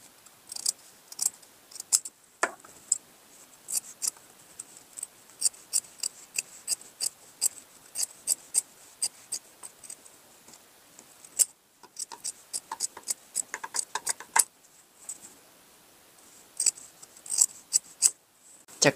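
Scissors trim the seam allowance on a denim jacket collar, a long series of sharp, close snips and clicks at an irregular pace with brief pauses, crisp against a quiet background.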